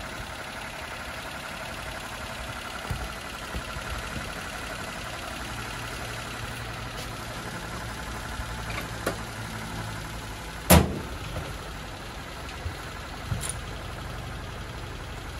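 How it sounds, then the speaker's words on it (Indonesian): After a spark plug change, a car engine idles steadily with a low, even hum throughout, broken by a few faint clicks and one sharp knock near the end. "Enjin pun tak merau sangat."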